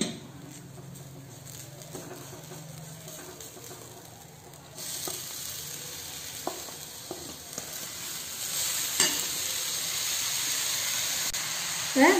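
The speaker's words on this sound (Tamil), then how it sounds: "பெருங்காயம் போட்டுக்கிட்டேன் கருவேப்பிலையும் போட்டிருக்கேன் போட்டு லைட்டாக ரெண்டு வதக்கு வதக்கிடுறேன்" Asafoetida and curry leaves sautéing in hot oil, a soft steady sizzle that grows louder partway through, with a few light clicks of stirring.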